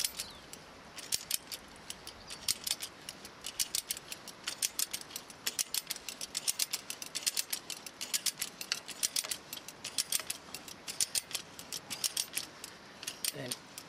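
A Strainrite Cliplock wire strainer cranked on fence wire, giving a rapid, steady train of metallic ratchet clicks, close and clear over faint background noise, with no talking.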